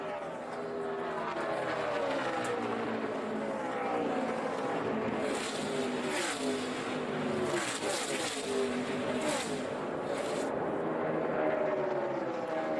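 NASCAR race cars at the 2012 Sam's Town 300 roar steadily, with engine pitches rising and falling as cars pass near and far, under continuous race commentary and crowd noise.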